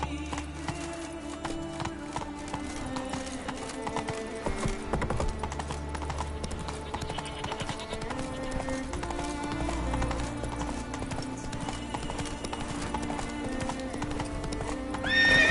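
Horse galloping in The Witcher 3 video game, steady rhythmic hoof clip-clops under game music, with a whinny near the end.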